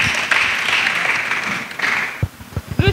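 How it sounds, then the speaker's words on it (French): Applause from a church congregation welcoming children at a pastor's gathering, steady clapping and cheering that swells and then fades, with a few voices and shouts breaking through near the end. "Suivant, acclamation."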